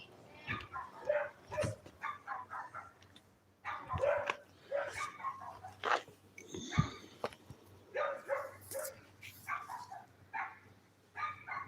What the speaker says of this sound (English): Oh my God, the neighborhood is alive with dogs.